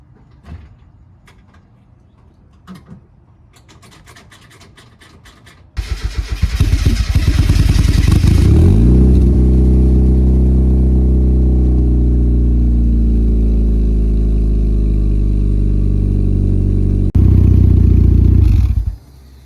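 A turbocharged Mazda Miata is started and left to warm up. A few faint clicks come first, then the engine catches with a loud burst and settles into a steady, close, droning idle, which flares briefly again near the end.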